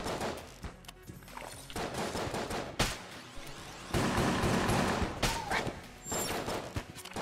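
Repeated weapon fire from a gun in the twin-stick shooter Enter The Gungeon, with rapid bursts, sharp shots and occasional booms separated by brief pauses, loud and busy with game effects.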